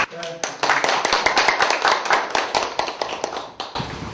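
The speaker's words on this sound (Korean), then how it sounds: "조백재 총장님이신데 뜨거운 박수로." An audience applauds to welcome the university president at the Seoul Digital University cyber literature award ceremony. A voice speaks briefly at the start, then sustained crowd clapping follows before fading at the end.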